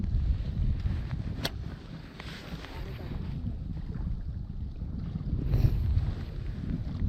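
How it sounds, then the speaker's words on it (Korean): Strong wind blowing across an outdoor reservoir during bass fishing, heard as a constant low buffeting roar against the microphone that swells and fades throughout, with faint lighter sounds over it. "이쪽도 지금 바람이 굉장히 많이 불어요"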